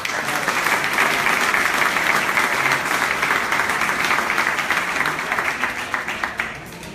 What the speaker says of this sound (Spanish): Para ellos un fuerte aplauso.